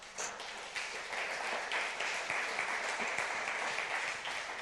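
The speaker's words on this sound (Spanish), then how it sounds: "Denle un aplauso a Dios." A congregation applauds during a Spanish-language church service, giving a steady wash of many hands clapping at moderate volume for a few seconds.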